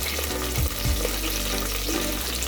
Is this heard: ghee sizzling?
yes